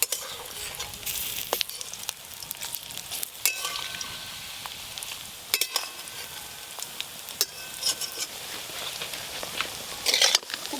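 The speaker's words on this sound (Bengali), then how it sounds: "এবার বড়াগুলো ভেজে নেব।" Batter fritters of drumstick flowers fry in hot oil, giving a continuous close sizzle with scattered crackles and a few clinks of a utensil turning them.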